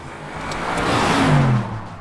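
A 2022 Audi RS7 with a 4-liter twin-turbocharged V8 drives past on the road, its deep engine note swelling to a loud peak and then easing off in a brief passing whoosh, with no voices.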